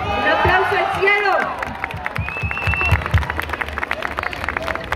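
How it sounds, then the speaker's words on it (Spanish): A crowd at a live charity concert cheers and claps after a shouted call from the stage, the applause continuing as a dense patter of claps and whoops, loud and close. "¡Un aplauso al cielo!"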